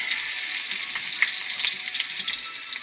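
Onion sautés in a hot pan, giving a dense, even, bright sizzle that holds steady and close throughout, with faint crackles and no voices.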